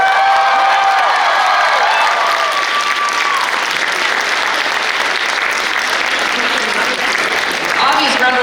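A large audience at a stand-up comedy show during the Tora-Con 2018 convention breaks into loud, sustained applause mixed with crowd noise and scattered cheers. The ovation tapers slightly and then swells again near the end.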